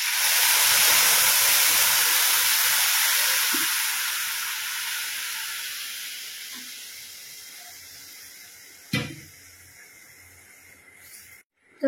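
Milk is poured into a hot pan of roasted vermicelli and gives a loud hissing sizzle that slowly fades over several seconds, followed by a few soft clinks and a sharp scrape of a utensil.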